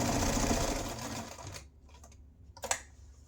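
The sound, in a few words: sewing machine stitching one continuous stitch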